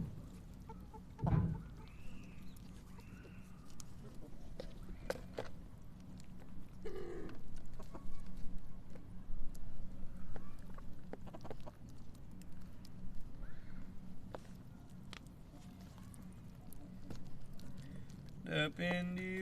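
Chickens pecking at and eating cottage cheese, with scattered soft clucks and bird calls over a steady low background hum, plus a couple of sharper knocks near the start and end.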